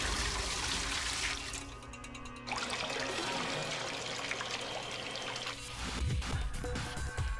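Water is poured and changed in a beaker in the puzzle game Zero Escape: Virtue's Last Reward, with a continuous splashing trickle, a brief drop-off, then renewed pouring and a few gurgling sloshes near the end.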